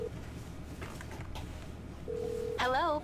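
Phone dialing in GTA 5 Online: a few short tones followed by a steady dial tone and then a warbling ringing tone, all over a game-world background hum.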